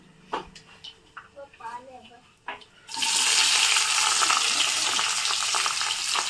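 Chopped onion drops into hot ghee tempered with cumin and mustard seeds and bursts into loud, steady sizzling for dal khichdi, following a stretch of soft kitchen clinks and someone talking.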